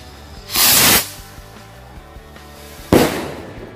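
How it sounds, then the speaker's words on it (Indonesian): A King Rocket Hercules firework rocket launches with a loud, sharp hissing whoosh lasting about half a second, then a quiet gap followed by a second burst of hiss as it fires or pops. "selanjutnya iki kita nyalakan mercon King Rocket Hercules"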